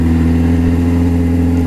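Suzuki GSX750F motorcycle engine running through a modified exhaust with muffler, mesh and DB killer, a loud, steady low-pitched drone held at constant revs, close up and alone.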